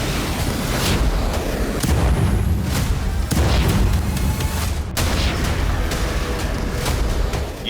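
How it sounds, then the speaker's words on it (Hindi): Rocket strikes hit a naval base in Haifa, a rapid series of heavy booms and blasts over a continuous deep rumble, loud and close. "यहां कई धमाके हुए और इन धमाकों से यहां की कई इमारतों को नुकसान पहुंचा है"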